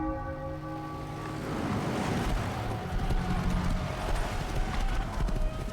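Horse hooves clip-clop in the Mafia: The Old Country video game trailer, a steady rhythmic trot emerging after a sustained tonal chord fades, moderately loud and unaccompanied by speech.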